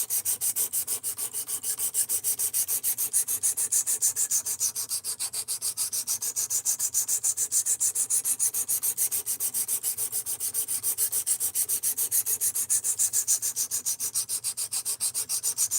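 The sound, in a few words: knife being ground on a sharpening stone, hogging off material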